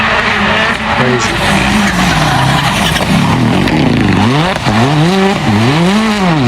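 A rally car racing flat out on a rally stage, its engine loud and close, revving hard and rising and falling through gear changes with skidding and tire noise mixed in.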